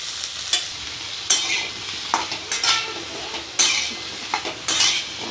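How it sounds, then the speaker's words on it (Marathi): Eggplant cooking in oil in a hot kadai, with a steady sizzle and repeated scraping stirs of a utensil against the pan. "तर आता हे ना व्यवस्थित वाफवू द्यायचे तेलामध्ये."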